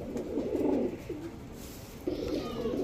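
Racer pigeons, among them a pair of Dudh Khaki birds, coo nearby in two soft, throaty bursts separated by a brief pause.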